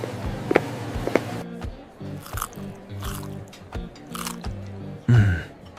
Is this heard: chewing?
yes